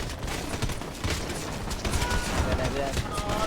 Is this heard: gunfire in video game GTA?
yes